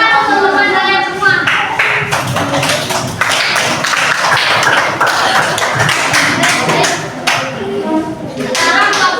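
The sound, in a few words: classroom applause for classmates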